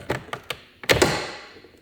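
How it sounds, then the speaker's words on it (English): Close, dull plastic knocks and clacks as a 2023 Volkswagen Tiguan door panel is lifted off, a few quick taps then a louder double thunk with a short rattle, no speech. "Pull up the door panel."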